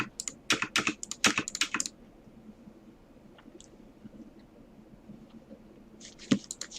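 Computer keyboard being typed on and clicked while someone works on an HTML5 game: a burst of quick, close key clicks for the first two seconds, a quiet stretch with a few faint taps, then another short flurry of keystrokes at the end.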